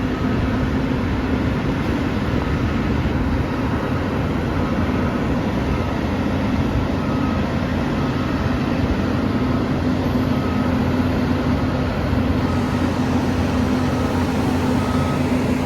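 A large construction machine digging soil at a Bangkok Orange Line metro station site, its engine droning loud and unbroken, a heavy low rumble with a steady hum running through it from start to finish.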